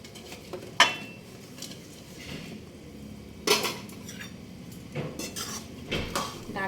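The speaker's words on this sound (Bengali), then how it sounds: "এবার এগুলো আমি ডালে দিয়ে দেবো" A spoon clinks and scrapes against a pot while sliced drumstick stalks are stirred into lentil dal, with a few sharp metallic knocks and softer stirring noises in between and no talk.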